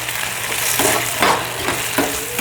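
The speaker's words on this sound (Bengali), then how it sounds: "সয়া সসের সাথে আমি দিয়ে দেবো টমেটো পিউরি বা টমেটো সস, যেটা আমি একসঙ্গে এবার এগুলোকে মিশিয়ে দেবো" Soy sauce and tomato purée sizzle in a hot pan while being stirred, a steady frying crackle with rhythmic scraping strokes every half second or so, close and continuous with no talk.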